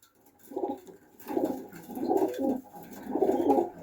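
Pakistani pigeons coo nearby in several soft, throaty bursts, low and rolling, with short pauses between calls.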